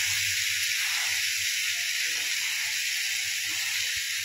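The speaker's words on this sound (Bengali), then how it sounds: "আমি অল্প করে আলু দিলাম, দিয়ে ভাজা ভাজা করব" Steady sizzling hiss of potatoes frying in a pan with leafy greens, constant and fairly quiet throughout with no talking.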